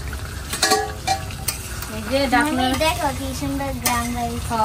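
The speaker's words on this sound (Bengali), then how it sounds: "এখন মশলার সাথে ভালো করে কষাই নিব মাংসটা" Duck meat with spices is stirred and fried in a pot, a steady sizzle under scraping stirs, while a person talks over it.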